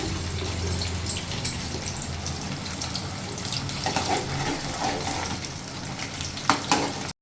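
Continuous close crackling sizzle of peanut dal sugiyam frying in hot oil, a steady bubbling hiss with occasional louder pops.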